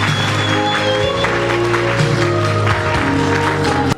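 Applause at a wedding after the cake cutting, a steady wash of clapping from the guests that carries on throughout, mixed with ongoing music.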